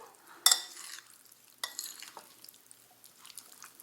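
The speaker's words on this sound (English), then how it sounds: "It's really working the garlic into the tomatoes." A spoon stirs garlic through chopped tomatoes in a pan, close wet scraping and squelching strokes with a soft sizzle in between, no voices.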